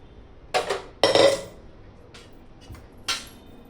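A spoon clanks and scrapes against the metal of a pressure cooker while it stirs gravy for pav bhaji. There are three or four separate loud knocks close by, with quiet gaps between them and no talking.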